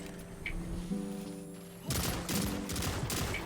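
Burst rifle fire in the video game Destiny Trials, repeated clusters of rapid shots in the second half, loud over a steady game background hum.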